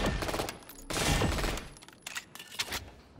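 Spectre submachine gun fired in the Valorant shooting range, a loud continuous automatic burst followed by shorter bursts of rapid shots with brief pauses between.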